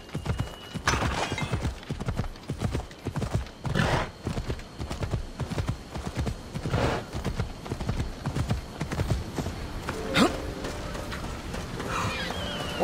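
Rapid rhythmic hoofbeats of a galloping horse in the video game Assassin's Creed Odyssey continue steadily throughout, loud and close, with a brief whinny near the end.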